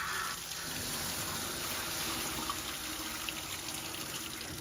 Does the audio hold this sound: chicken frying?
no